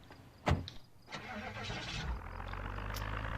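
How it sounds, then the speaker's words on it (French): Car engine starting in the zombie survival game Project Zomboid: a brief cranking burst, then the engine catching and settling into a steady idle hum, with no talking. "On rentre la bagnole."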